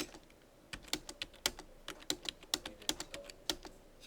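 Numbers typed on a computer keyboard as crisp clicking keystrokes in an irregular rhythm, fairly close and clear over a soft background hiss, with no talking.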